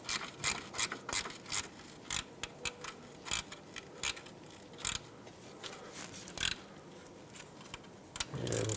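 A ratchet clicks back and forth on a rusty sway bar bolt on a 1997-2001 Lexus ES 300 during a front sway bar bushing job, giving irregular sharp ticking bursts close by with no talking.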